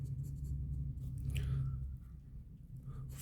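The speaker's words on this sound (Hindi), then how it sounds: "चलो लिखते हैं" Pen scratching across paper as a maths solution is written out during a Class 10 lesson, a soft continuous scribble over a steady low electrical hum, with no talking.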